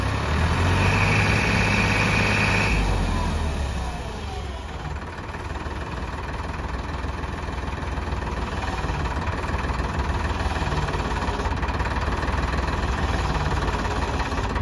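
A Farmtrac 45 tractor whose hydraulic lift will not lift gives a loud, close engine roar that is revved high at first, then drops to a steady, rough, throbbing run.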